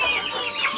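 Chickens clucking briefly in an enclosed coop, a short burst of clucks heard close by.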